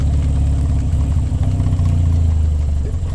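A 1952 MG TD engine, a fully restored low-mileage car, pulls away in second gear with a steady, loud low-pitched drone and a slight rise in revs, close and continuous with no talk.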